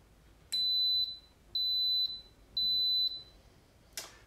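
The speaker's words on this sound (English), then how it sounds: "The wonderful beep, the knowledge that your food is on its way." An Instant Pot gives three steady high-pitched electronic beeps, each about half a second long, evenly spaced about a second apart, clear and close in a quiet room.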